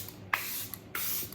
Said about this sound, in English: Same setting spray.